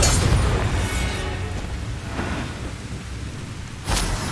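Bombarda spell blast in Hogwarts Legacy, a loud booming explosion with a rumbling, noisy tail that fades and then swells again near the end.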